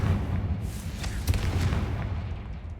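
The Confringo blasting spell goes off in Hogwarts Legacy with a dull, booming blast and crackling rumble that stays loud through the short moment, with no talk.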